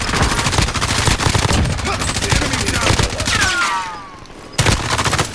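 Video game gunfire erupts in dense rapid bursts, like automatic weapons, close and loud. It drops off briefly near the end before another burst cuts in.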